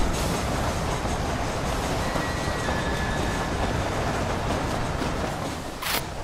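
A train passing in the video game Red Dead Redemption, a loud, continuous rumble and clatter of rail cars that holds steady throughout, with no voices.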